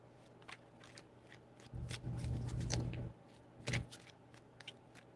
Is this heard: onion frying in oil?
no